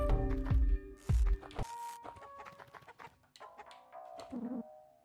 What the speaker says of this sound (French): Ma poule chérie, c'est mon bébé.